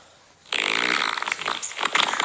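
A loud, sputtering fart erupts suddenly inside an elevator after a moment of quiet, rasping and bubbling for nearly two seconds in uneven bursts.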